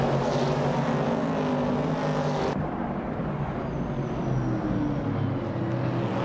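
Vintage 1970 Ford Mustang Boss race cars in a racing game at Croft Retro Track, a continuous droning engine roar with several cars blended together, steady and fairly loud throughout, one pitch shift partway, no voices.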